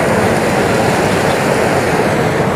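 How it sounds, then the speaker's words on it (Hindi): Floodwater of the Kamla river gushing out beneath a closed sluice gate, a loud, continuous broadband roar of rushing water, steady and close with no breaks or voices. "फाटक बंद है तो इसके नीचे से पानी निकल रहा है यहाँ पर"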